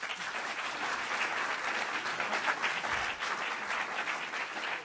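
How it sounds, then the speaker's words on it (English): An audience at a bioterrorism preparedness panel gives a steady, dense round of applause for three panelists, filling the full few seconds at an even level without a break. "join me in one more round of applause in thanking our three panelists"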